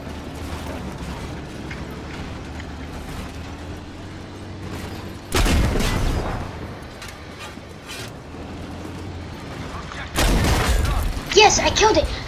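A tank is destroyed in the Battlefield V video game: two heavy, loud explosion bursts, each lasting about a second, cut through a steady rumble of engine and battle noise.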